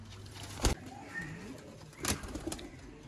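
Sialkoti pigeons cooing softly in a breeding pen, with a few faint, low coos and a couple of short thumps against quiet background noise.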